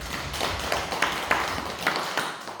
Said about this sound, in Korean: 지금까지 함께하신 성령님께 영광의 박수를 드립니다